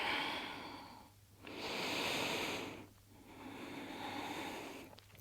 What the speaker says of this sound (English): 2 rounds of breath here